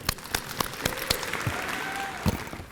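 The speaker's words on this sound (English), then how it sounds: "Round of applause for my students in the School of Business" Applause for School of Business students at a university convocation ceremony, with scattered sharp claps standing out over a steady wash of clapping from the seated crowd.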